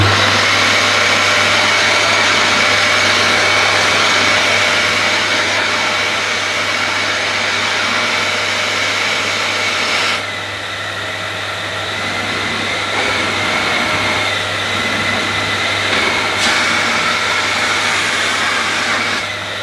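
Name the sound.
refurbished Dyson DC19 vacuum cleaner running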